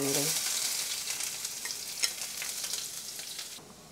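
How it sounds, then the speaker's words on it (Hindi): Oil sizzles and crackles steadily in a pan as finely chopped onion fries close by, with a few sharper pops, ending abruptly. "प्याज फ्राई हो रही है"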